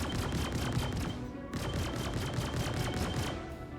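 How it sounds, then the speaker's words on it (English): Turrets firing at the player in a space game, rapid bursts of gunfire in a dense rattling stream, loud and close, briefly breaking and resuming, no talking. "Something is shooting at me."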